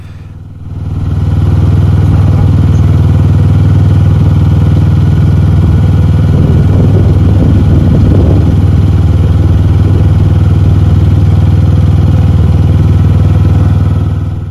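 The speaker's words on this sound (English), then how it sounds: "the boat's running sweet as." A narrowboat engine runs continuously at close range, steady and throbbing, with a low rumbling drone and some rattling clatter midway through, no voices.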